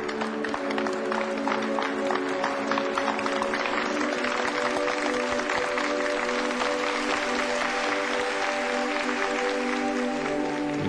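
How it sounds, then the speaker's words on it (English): Steady crowd applause for soldiers returning from a combat zone, sustained and even throughout, with music tones running underneath. "Let's give them a round of applause."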